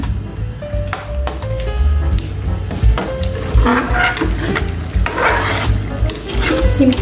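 Crunchy meat gets stirred in sauce in a pan, with a spoon scraping and clinking against the pan in repeated strokes over a steady sizzle, close and fairly loud with no talking.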